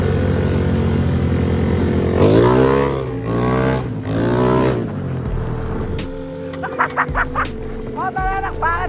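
Motorcycle engine idling and revving up and down in long swells, loud and close, with brief chirpy bird-like or squeak sounds near the end.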